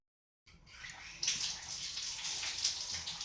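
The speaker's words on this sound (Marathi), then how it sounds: "नळ बंद कर पाण्याचा" Water runs from a tap in a steady hiss after a moment of silence, the flow growing stronger partway through and continuing without pause.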